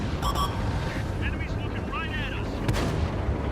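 A tank's main gun booms once in a tank battle video game, a sharp blast with a short rumbling tail amid engine drone and faint in-game effects.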